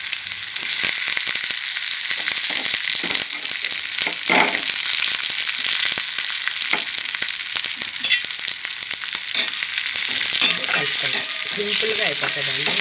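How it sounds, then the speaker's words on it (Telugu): Onions, green chillies and curry leaves fry in hot oil, a loud, close, unbroken sizzle with bursts of crackling and stirring scrapes throughout. "ఇప్పుడు వేసేసుకుందాం ఉల్లిపాయలు పచ్చిమిరపకాయలు కరివేపాకాయలు వేసేసుకుందాం"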